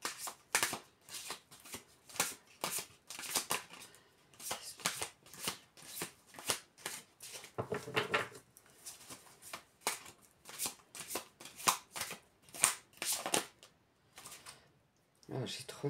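Tarot cards being shuffled for a card reading, a steady run of quick riffling bursts repeating through the whole stretch, close and fairly loud, with a brief voice appearing in the middle.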